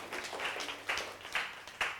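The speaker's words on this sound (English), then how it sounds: "give them a big round of applause" Small audience at a wellness talk gives a round of applause, a thin scattered patter of hands at modest distance with a few louder bursts, no voices over it.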